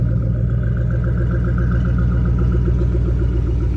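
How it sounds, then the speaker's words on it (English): A 2006 Ford Mustang GT with a 4.6L 24-valve V8 and a Flowmaster-style aftermarket exhaust idles close by. It gives a loud, steady, deep rumble with an even, lopey pulse and no talking. "I believe these are either Flowmaster or maybe something somewhat similar as far as the exhaust goes"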